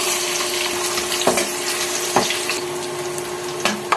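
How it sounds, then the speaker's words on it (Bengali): Chopped onion dropped into hot oil in a pot on the stove, with a steady sizzle and hiss broken by a few sharp clacks and scrapes, close and fairly loud. "তেল গরম হয়ে গেছে এবার দিচ্ছি পেঁয়াজ কুচি"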